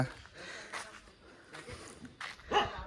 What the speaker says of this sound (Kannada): ಎಲ್ಲವರು ಭೌ ಅಂತಿದ್ರು. ಓನರ್ ನಾಯಿ ಅದು.